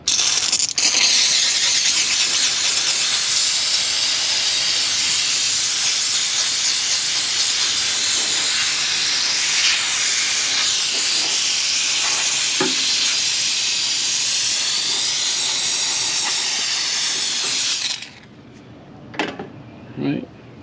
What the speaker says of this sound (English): you could just steam clean it off